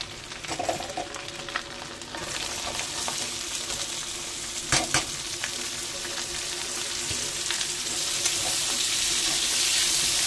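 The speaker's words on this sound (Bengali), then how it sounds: "পেঁয়াজটা একটু ভাজা ভাজা হবে" Chopped onion fries in hot oil in a pan, giving a continuous close sizzle that swells slightly over time, with a few faint clinks and no talking.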